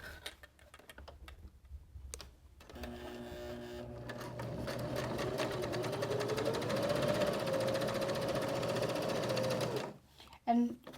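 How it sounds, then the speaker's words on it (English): A sewing machine runs a continuous straight seam along the back of a fabric tote bag, a steady rapid mechanical whir and tick that starts, holds for several seconds, then stops, with a soft voice speaking around it. "we're going to stitch a regular seam allowance, so using the outside edge of our foot all the way across the top edge of the front of the bag"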